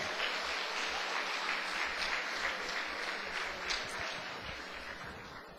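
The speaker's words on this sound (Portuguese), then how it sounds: "Agora dá outra salva de palmas para o Senhor Jesus." A church congregation gives a long round of applause for Jesus, a dense and steady clapping from many hands that eases off slightly toward the end.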